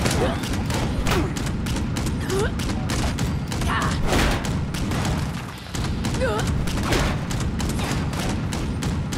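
Rapid gunfire in Fallout 76, dense volleys of shots cracking and thudding almost without pause, with someone talking over the shooting.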